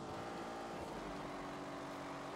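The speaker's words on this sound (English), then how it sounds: "It's a 4-litre V8. It has twin turbos." A 4-litre twin-turbo V8 making 510 horsepower, heard in The Grand Tour Game racing game, holds a steady loud drone with a slowly shifting pitch, close and continuous with no talk over it.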